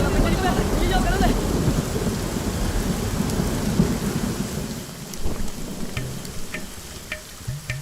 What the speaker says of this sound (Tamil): அப்படியே அந்த மலை மேல மழை பெய்யற மாதிரி ஒரு ரெயின் எஃபெக்ட் போட்டா சூப்பரா இருக்கும்ல?